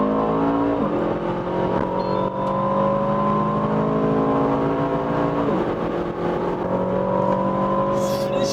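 An Aston Martin DBX707 SUV accelerates hard in Sport Plus mode with its sport exhaust open, the engine note rising steadily through the gears in long pulls heard from inside the cabin, loud and continuous.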